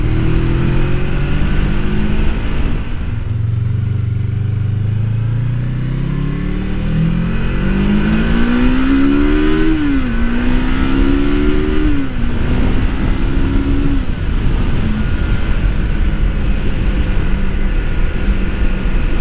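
A 1989 Suzuki GS500 cafe racer motorcycle engine revs and accelerates through rising gears, loud and close, pitch climbing and dropping with each shift.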